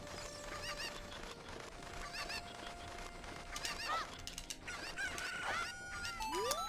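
Game sound effects from a Zelda title, with bird-like chirps and clucking calls of a chicken or hen repeating over busy background music, fairly loud and with no talking.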